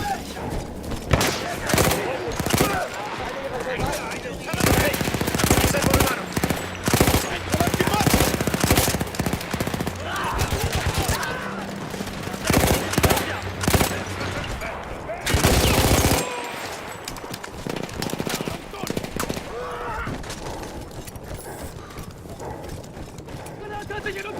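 Loud machine gun fire in Battlefield 1, in rapid bursts and sustained volleys that run almost continuously, with shouted voices mixed in among the shots.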